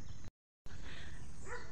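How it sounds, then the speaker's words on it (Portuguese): A neighbor's dog barks a few times from next door across a rainy countryside garden, fairly distant over a hiss of background noise. "esse cachorro que tá latindo é da vizinha"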